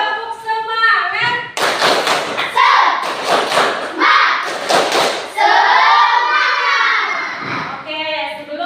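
A primary school class claps in a patterned rhythm, with bursts of synchronized claps mixed with children's voices chanting and shouting.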